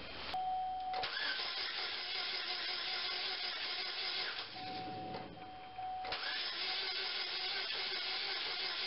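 A 2003 Chevy Cavalier's 2.2L Ecotec engine cranks after a timing chain replacement, a loud, close, continuous whirring starter churn in long bursts with short pauses between attempts.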